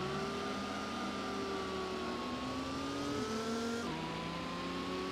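A tuned-up Dodge Viper engine revving hard in the Gran Turismo racing game, a steady high droning whine that climbs through the gears with a sharp shift near the end, loud and continuous with no voices.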